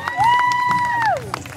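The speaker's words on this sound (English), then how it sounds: "Massive round of applause" Crowd at a Race for Life finish line, 2010, clapping and cheering as the final runners arrive, with a loud whistle or sustained tone sliding down over the top, close and busy with voices.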